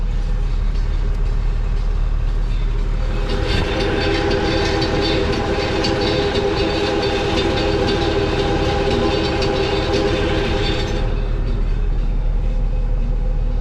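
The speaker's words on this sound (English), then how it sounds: "Those steel packer wheels definitely make a little bit of racket going down the tar road." Steel packer wheels on a 100-year-old farm implement rattle and clatter along a tar road, a steady loud rumbling drone that swells into denser metallic racket for several seconds before settling back.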